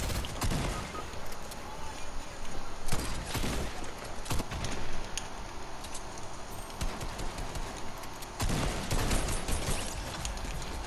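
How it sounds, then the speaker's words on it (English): Video game gunfire crackles in repeated sharp bursts throughout, with heavier volleys near the start and around the three- and eight-second marks, under a busy, dense mix. "Getting shots from their left"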